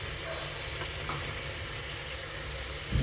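Washed chicken being fried in oil with spices, a constant close sizzling hiss with a soft knock at the end, no voices.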